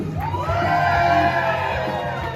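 Wedding guests at a reception cheering and whooping together, a loud rising swell of voices and yells that peaks and then tapers over a couple of seconds.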